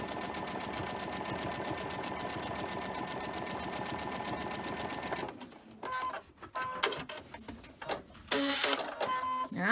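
A sewing machine stitches with white thread in a loud, steady mechanical whir for about five seconds, then stops, leaving quieter handling clicks and rustles.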